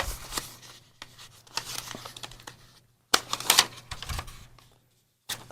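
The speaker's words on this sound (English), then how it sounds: "Let me just fold it." Grid paper being folded and creased by hand for a notebook, heard as several close, crisp rustles and crackles separated by short quiet gaps, with no speech.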